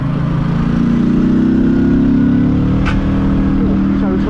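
A Benda Rock BD300 motorcycle rides in low gear, its engine a loud steady drone with a gently rising pitch, close and continuous throughout.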